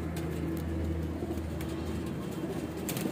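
A pigeon chick coos softly and repeatedly under a steady outdoor hum, with faint traffic noise in the background.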